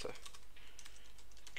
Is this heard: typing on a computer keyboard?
yes